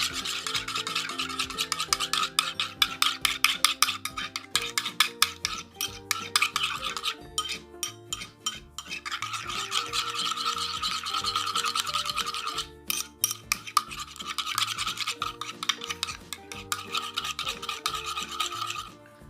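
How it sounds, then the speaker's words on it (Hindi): Crunchy homemade slime, made without clear glue or beads, being mixed by hand with pearl pink colour worked in, giving close, steady crackling and squishing bursts that pause briefly and resume, all under continuous background music with no talking. "अब इसको हम लोग अपनी स्लाइम में अच्छे से मिक्स कर लेंगे"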